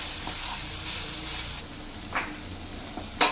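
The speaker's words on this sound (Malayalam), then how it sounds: "നല്ലപോലെ ഇളക്കി" Chicken with pepper powder sizzling and being stirred in a pan for honey garlic chicken, a soft steady sizzle with a few brief scraping stirs and a sharp clink at the end.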